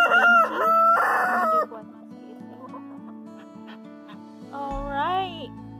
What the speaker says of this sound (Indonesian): Ayam jago.